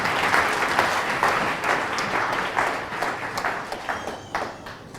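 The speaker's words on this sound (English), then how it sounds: "Clap unto Jesus." A church congregation claps steadily in praise of Jesus during a sermon, with sustained, dense applause throughout and no speech over it.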